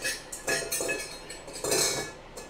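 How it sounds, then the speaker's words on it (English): Metal kitchen utensils clatter and clink repeatedly as someone rummages through a drawer or container for a whisk among a dough hook and kneader, with bursts of jangling close by and no talk. "We're gonna go ahead and get our whisk tool"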